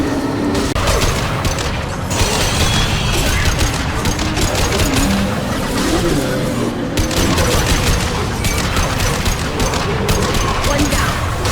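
Mass Effect game combat with dense, continuous gunfire and booming impacts, loud and unbroken throughout, overlapping mechanical clatter and faint voices in the mix.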